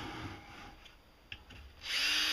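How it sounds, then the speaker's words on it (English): Power drill boring a hole just beneath the rim of a can set in a bucket; faint whirring with a brief click, then the drill revs up loudly at the end, no talking. "I'm just going to drill a hole right beneath this rim."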